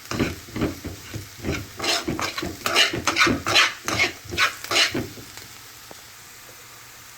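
Onions frying over a high flame while being stirred, a steady run of sizzling with repeated scraping and stirring strokes in a rhythmic burst, close and moderately loud, easing toward the end.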